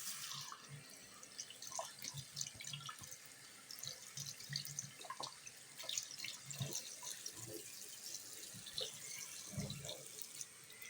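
Faint tap water runs into a sink while someone washes their hands, with an uneven trickle, scattered drips and small splashes heard close up in a quiet room.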